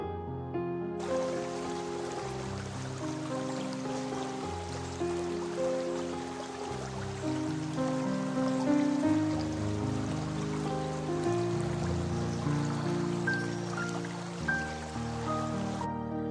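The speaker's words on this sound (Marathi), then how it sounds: "चला तुम्हाला झरणा जवळून दाखवते" Patalpani waterfall near Indore, with steady rushing and splashing water heard throughout under continuous background music, no voices.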